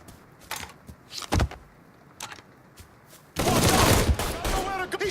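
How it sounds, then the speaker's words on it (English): Gunfire from an enemy in the Mafia 3 video game crackles in a few sharp bursts, then a dense sustained volley of shots near the end, with a player's voice heard in between. "He's shooting the shit out of me!"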